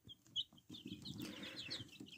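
Chickens cluck softly in short, scattered bursts, fairly faint against a quiet background with some rustling.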